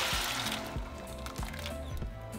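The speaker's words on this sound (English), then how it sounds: "So now we're going to pour our sauce." Chile sauce poured into a pot of browned meat with broccoli, a close, steady wet slosh and hiss running throughout with a few soft thuds.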